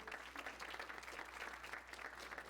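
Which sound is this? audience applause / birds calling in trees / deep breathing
audience applause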